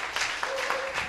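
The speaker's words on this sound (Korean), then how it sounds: "박수 한번 주세요." Brief applause from a studio audience on a Korean television talk show as a startup mentor guest is introduced, a short burst of clapping with a faint tone running through it.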